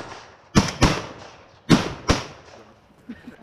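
Shotgun blasts at doves on a public-land dove hunting opener: four sharp, loud reports in two quick pairs, each with a short echoing decay in open air, followed by faint outdoor sounds.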